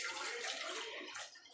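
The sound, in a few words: water poured into a pressure cooker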